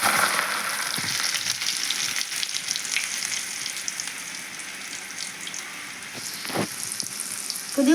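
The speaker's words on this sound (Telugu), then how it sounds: "ఆయిల్ వేసాను కదా, పొట్టు తీసిన ఎల్లిపాయలు వేస్తున్నాను" Peeled garlic cloves dropped into hot oil for a village-style raw mango dal, giving a continuous close sizzle with a few light stirring knocks and a louder crackle burst near the end.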